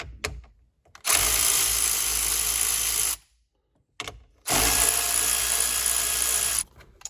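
A power tool spins out 7mm bolts during a radio install in a Ford Mustang: two sustained, loud whirring bursts of about two seconds each, separated by a short pause, with no talking.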